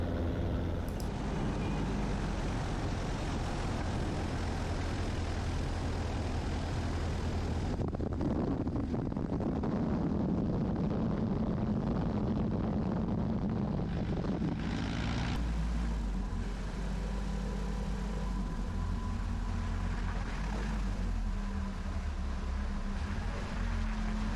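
A steady, droning Super Cub propeller-plane engine hums continuously in flight, its tone shifting slightly partway through, with a rushing airflow over it.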